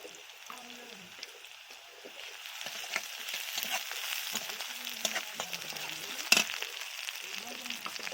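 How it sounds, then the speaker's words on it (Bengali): Green chillies and garlic paste fry in a hot pan with a steady, close sizzle that swells partway through, broken by occasional stirring clatters and one sharp knock, with no talking. "কাঁচা লঙ্কাগুলো দিয়ে দিচ্ছি, রসুন বাটাটা দিয়ে দিলাম"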